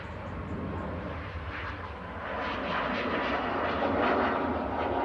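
A TUI Boeing 737 MAX 8 airliner departing Manchester Airport for Alicante, its jet engines a steady broadband roar that swells gradually as it climbs away, heard alone at moderate distance.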